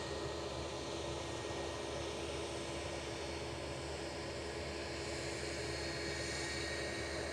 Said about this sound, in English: Kuwait has just touched down from Kuwait City.